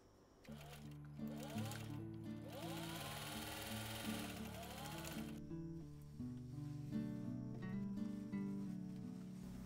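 A sewing machine stitching a fabric bucket hat whirs in several runs of rapid mechanical stitching, close and fairly loud, pausing between bursts.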